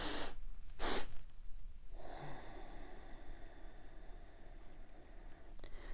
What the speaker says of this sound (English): So we'll do this double inhale